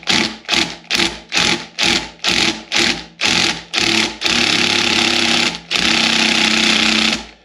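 Impact wrench working a fastener on a beach buggy build: a run of short rhythmic hammering bursts, then two longer sustained rattling blips, loud and close with no talk.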